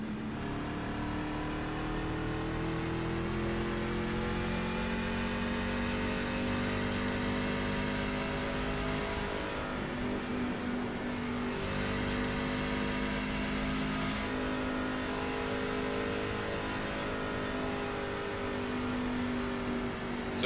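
Race car engines drone at Daytona in iRacing Class C fixed restrictor plate racing: a dense, continuous pack roar with layered pitches that slowly rise and fall, loud and steady for twenty seconds with no talk.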